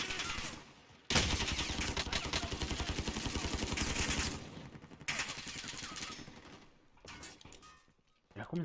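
Rapid automatic gunfire from a weapon in the Warzone video game, loud dense bursts with short pauses and clattering shots, with some speech mixed in.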